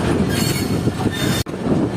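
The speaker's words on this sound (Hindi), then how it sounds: "लोकोमोटिव वो हमारा पहुंच चुका है प्लेटफॉर्म नंबर 3 पर" Locomotive hauling the Shah Latif Express pulling into platform 3 at Hyderabad Junction, wheels squealing with a thin high whine over a loud continuous rolling rumble, a brief abrupt cutout near the end.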